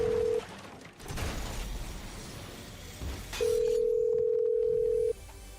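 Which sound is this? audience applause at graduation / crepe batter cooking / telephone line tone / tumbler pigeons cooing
telephone line tone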